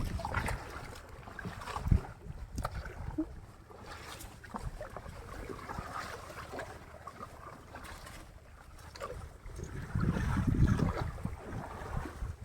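A punctured boat is towed through the water of a creek, giving a steady churning wash and sloshing with wind across the microphone, swelling louder toward the end.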